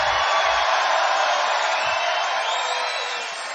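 A record rally crowd of over 10,000 at a Donald Trump rally in Rochester, NY, a broad sustained roar of cheering and shouting that fades slightly at the end.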